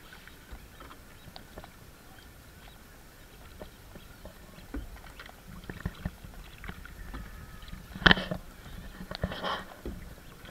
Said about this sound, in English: She's rowing.